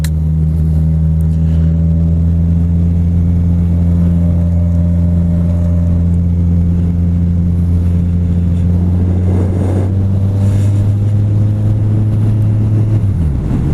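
Kawasaki Z1000 motorcycle with an Akrapovic exhaust on a road ride, a loud, close engine drone holding steady, then rising and roughening as the rider downshifts before dropping off at the end.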